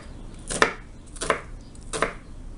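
A dull kitchen knife dices an onion on a cutting board, giving three separate, fairly soft chops spaced about two-thirds of a second apart, close by with no talking.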